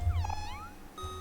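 Cat meowing in the video game Omori, two clear meows with a pause between them, close and alone with no talking.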